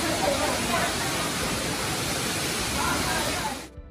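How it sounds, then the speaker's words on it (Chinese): Momonar Waterfall near Wujie village in Taiwan pours down a cliff face as a loud, steady, close roar of rushing water that holds unbroken for most of the span, then cuts off abruptly near the end. "抵达摩摩纳尔瀑布，有如山壁水彩画的摩摩纳尔瀑布"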